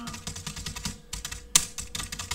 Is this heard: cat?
no